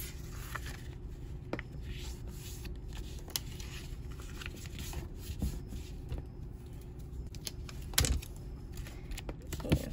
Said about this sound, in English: I'm just going to fold up her invoice